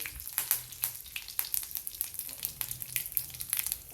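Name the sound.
mustard seeds and cumin sizzling in ghee tempering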